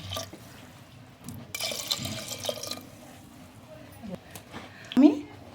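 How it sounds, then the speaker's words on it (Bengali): About two cups of water splash into a pot holding bottle gourd dal with cumin, ginger-garlic paste and green chilies. There is one short, close pour amid kitchen clatter, and a person talks throughout. "দু কাপ মতো দু পেয়ালা মতো পানি"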